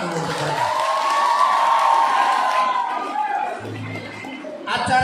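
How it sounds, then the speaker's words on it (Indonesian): A crowd at a school arts night cheers and claps for young performers, a loud sustained roar with whoops that fades after a few seconds, then a brief burst of noise at the end. "Kita tepuk tangan dulu untuk mereka"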